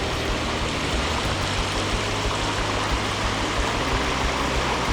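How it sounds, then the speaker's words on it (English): Calm green river flowing beside an old Swiss defensive line, a steady broad wash of water noise throughout, close and even, with no voices. "all of a sudden there's the most beautiful river that I've seen"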